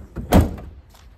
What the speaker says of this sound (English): Go ahead and shut these 2 doors.